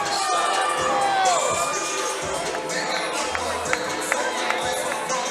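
Arena crowd at a Cage Titans 51 MMA event cheering and shouting between rounds, a dense, loud roar with scattered whoops, whistles and sharp claps cutting through.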